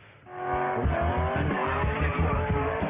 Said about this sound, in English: a teenage boy driving a car doing a burnout while his dad holds the camera